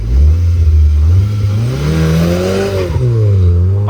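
A car pulls away hard from a standstill with the clutch dumped, its engine roaring loud and close and rising in pitch, with a brief dip as it shifts before climbing again.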